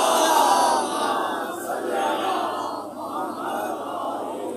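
A large gathering loudly recites salawat in unison, a dense, sustained chorus of many voices filling the space and swelling and easing slightly over several seconds.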